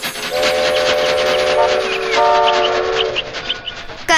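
A cartoon train engine in a children's story chugs along with a rhythmic clatter and bright whistle tones, loud and close, then fades into scattered knocks.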